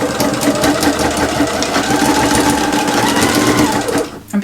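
A sewing machine stitches through thick quilted material for a zippered bag, a steady, close, rapid mechanical chatter running without pause until a brief stop at the end.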